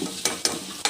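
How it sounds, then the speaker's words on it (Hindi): A spoon stirs garam masala, chaat masala and crushed chili into a sizzling tadka in a pan for dal gosht, giving three quick scraping strokes over a steady frying hiss, close and with no talk. "इसको अब मैं मिक्सअप कर दूँगी।"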